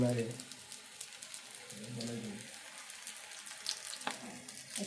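Food frying in hot oil in a pan on a stove, a steady close sizzle running throughout, with someone talking over it and a few stirring clinks.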